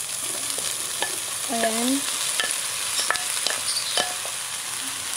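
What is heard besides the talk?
tofu frying in a pan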